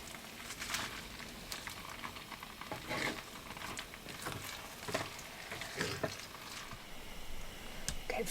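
Spinach wilts down in a hot pan on a road trip, giving a steady soft sizzle and crackle with scattered pops and stirring scrapes, moderately close, with no talking.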